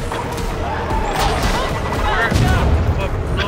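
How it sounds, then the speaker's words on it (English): A bomb goes off in the Warhammer 40k: Darktide raid amid loud, continuous gunfire and chaotic combat noise, with a heavier low rumble near the end. "Oh, there's a bomb."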